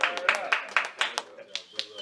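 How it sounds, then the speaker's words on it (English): A small group claps in quick bursts, sharp close hand claps in an irregular rhythm alongside voices in the room. "We need a clap machine right now"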